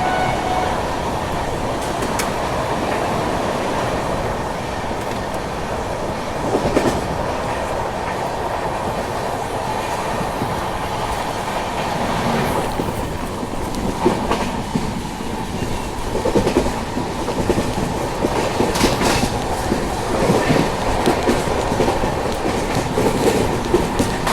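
The Jammu Mail passenger train runs on rails while overtaking an Intercity Express, heard from on board as a continuous rumble with rhythmic clickety-clack of wheels over rail joints.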